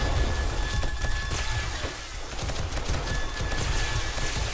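Automated turrets fire in 7 Days to Die, a dense continuous rattle of rapid gunshots with a low rumbling undertone, steady and loud throughout the stretch, with no talking over it.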